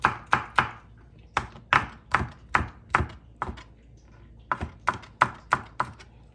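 Chili being finely chopped with a knife on a cutting board, sharp close knocks in quick bursts of three or four with short pauses between, no talking.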